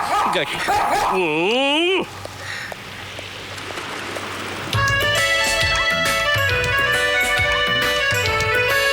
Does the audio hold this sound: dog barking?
yes